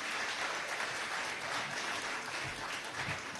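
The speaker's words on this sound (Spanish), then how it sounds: "Con un fuerte aplauso, por favor, a nuestros panelistas." Audience applause for panelists at the opening of the ALBA-TCP Tambores drum festival, a steady, fairly faint wash of clapping from a crowd throughout.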